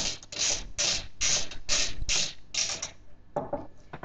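Screwdriver driving the last screw into a power supply bracket while building a home office computer, about seven rhythmic ratcheting creaks close up, then a pause and a few softer clicks.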